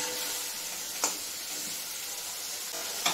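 Spice paste for a fish curry fries in a pan with a steady, bright hiss, broken by a couple of sharp spatula scrapes.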